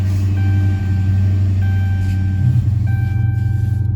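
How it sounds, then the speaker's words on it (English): A 2014 Dodge Charger Police Pursuit with the 5.7L Hemi V8 and AWD runs with a deep, steady engine rumble that swells slightly toward the end, loud and close with no talking. "I'll start it up here. It's push button start."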